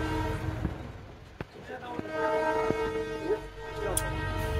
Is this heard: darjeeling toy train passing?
yes